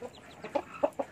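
A mother hen with newly hatched chicks gives a few short, low clucks, spaced apart and fairly close, with quiet background in between.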